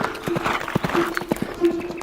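A voice imitates a gray horse galloping, with quick clip-clop beats tapped in an irregular rhythm, close and moderately loud over a faint steady tone.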